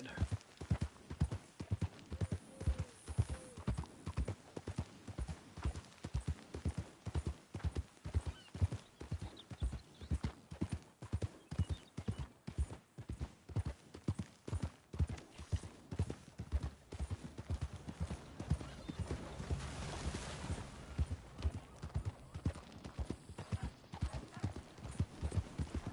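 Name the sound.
horses pulling a stagecoach, from the video game Red Dead Redemption 2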